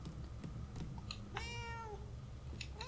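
A cat meows once in a long, clear, drawn-out call within the Murdered: Soul Suspect video game, set against a steady low ambient hum with a few faint ticks before and after.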